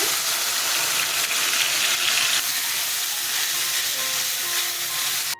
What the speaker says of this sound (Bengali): কাঁচা লঙ্কা ফোড়নে দিলাম, পেঁয়াজ দিয়ে দিলাম একটু, আদা লঙ্কা বাটা ছেড়ে দিচ্ছি।